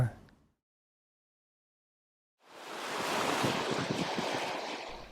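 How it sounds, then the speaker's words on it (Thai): Ocean surf rushes in after a brief silence, a broad, steady roar of waves washing ashore, fairly close and loud. "ภาพคลื่นน้ำทะเลพัดเข้าหาชายหาด"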